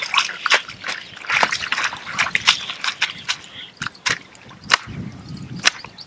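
Soapy washing water splashed onto freshly washed laundry, heard as a string of sharp, close wet slaps and splatters in irregular bursts with quiet dripping between them.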